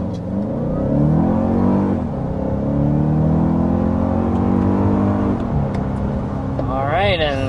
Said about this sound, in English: we're up to 60 miles per hour in the Grand Highlander